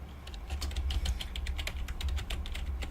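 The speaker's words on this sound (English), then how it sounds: "I can just type it in anyway." Someone types on a computer keyboard, entering an email address: a steady run of quick, light key clicks, close and fairly quiet, with no talking.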